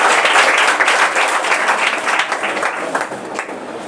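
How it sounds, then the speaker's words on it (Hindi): A hall full of people claps hard for a teacher at a school prize distribution ceremony in Bihar. The dense applause starts loud and slowly thins as it carries on. "एक बार जोरदार ताली बजाइए हमारे सर के लिए"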